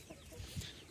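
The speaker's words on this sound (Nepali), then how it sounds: "आज 22 दिनको कुखुरा भएको छ।" Twenty-two-day-old chickens in a farm coop give faint, brief clucks against a low background hum.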